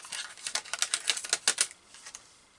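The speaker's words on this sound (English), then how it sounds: "Take the tape off there." Tape peeled off a handmade paper accordion card, a close run of quick crackling rips and ticks lasting about two seconds, then tailing off, with no talking.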